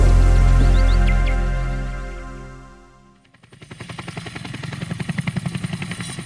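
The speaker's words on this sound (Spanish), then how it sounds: "En el día, Julián a veces escuchaba el sonido de las hélices de los helicópteros del ejército" Army rescue helicopter rotors sweep overhead: a loud engine whine fades out, then a rapid, thumping blade chop builds and grows stronger, heard alone without voices.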